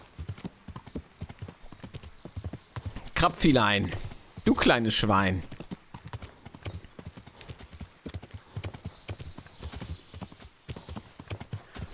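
A horse's hooves clip-clop in a steady rhythm as it runs through a forest in the medieval game Kingdom Come: Deliverance, with a brief neigh and someone speaking German over the middle.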